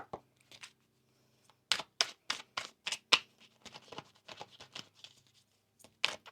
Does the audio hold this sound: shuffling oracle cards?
yes